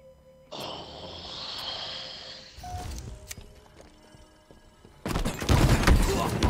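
Video game gunfire in a Halo-style capture-the-flag match on the Bazaar map comes in scattered bursts and a loud barrage at the end, with thuds, clicks and game effects in between.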